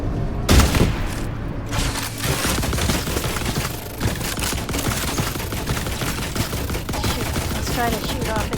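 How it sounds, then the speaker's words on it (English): A sniper rifle fires in the video game The Last Caretaker. One loud, heavy shot rings out near the start, then further shots sound over a dense, loud wash of game noise. "let's go ahead and switch to the sniper rifle"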